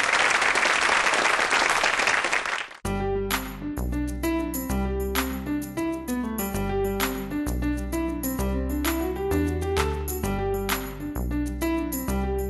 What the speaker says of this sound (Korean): 자, 그럼 박수로 강연 한번 들어보겠습니다